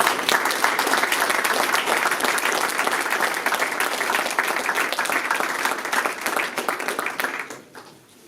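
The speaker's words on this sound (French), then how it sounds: "nous pouvons les applaudir." A sizable audience at a Sainte Barbe firefighters' ceremony in Pamiers breaks into sustained, dense applause that holds steady for several seconds before tapering off quickly.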